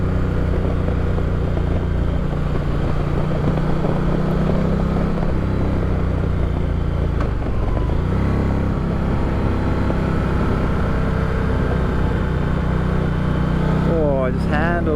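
An Indian Challenger motorcycle being ridden, its engine a steady, close drone mixed with wind rush throughout, with a rider talking over it.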